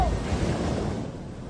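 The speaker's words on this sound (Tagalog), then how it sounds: "Sa gitna ng malalakas na hampas ng alon, pilit na lumangoy ang mga salvage worker na ito para makaligtas sa nagangalit na dagat." Strong ocean waves crashing at rough sea during a salvage operation, a loud, continuous roar of surf with heavy wind buffeting the microphone, gradually easing.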